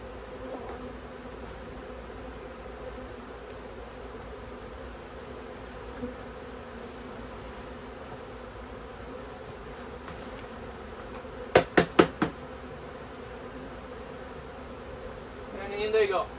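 Honey bees buzzing as they are dropped into a hive, a steady dense drone throughout with a few sharp knocks near the end.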